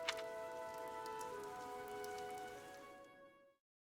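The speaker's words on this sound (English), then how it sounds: "This rain threatens a coming storm." Rain falls in the video game Fire Emblem Three Houses as a soft, steady patter with faint tonal music in the background, quiet throughout and stopping abruptly, with no voices.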